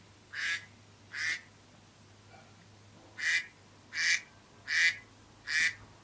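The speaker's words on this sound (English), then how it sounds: "And yes, I have a duck as my alarm." A duck-quack alarm tone set as a timer, sounding six evenly spaced, fairly loud quacks in two groups, two first and then four after a short pause, over a low steady hum.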